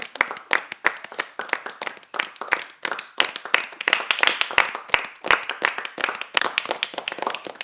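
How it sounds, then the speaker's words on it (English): A class of seventh-grade students claps for two classmates who won a game, a dense, lively patter of many hands sustained for several seconds without a break. "Please clap for them."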